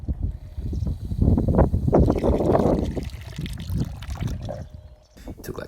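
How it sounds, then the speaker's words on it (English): Water gushes and trickles from a cheap eBay-bought hand pump well at an off-grid forest homestead in Sweden, a steady splashing pour beneath someone talking throughout. "This is a hand pump well"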